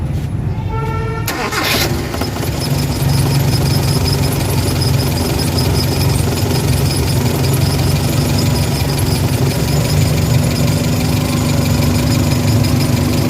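An engine cranks and catches during starter troubleshooting, then keeps running at a steady, loud idle with a constant low rumble and mechanical chatter, no voices over it.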